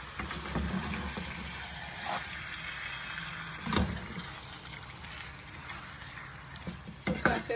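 Marinated chicken fries in a pan for a chicken fry dish while a spoon stirs it, giving a steady close sizzle with occasional louder scraping strokes and no talking.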